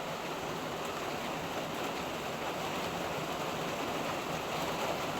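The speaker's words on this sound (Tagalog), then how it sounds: "Ang lakas ng ulan mga palangga." Heavy typhoon rain pours steadily, a dense, unbroken hiss of drops close by with no pauses, while water leaks into a store.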